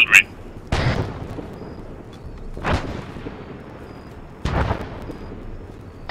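Artillery shells striking nearby in a military shooter video game, three heavy booming impacts spaced a couple of seconds apart, each with a rumbling tail.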